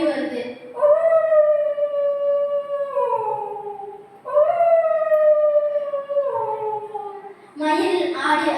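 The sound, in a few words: child imitating a fox howling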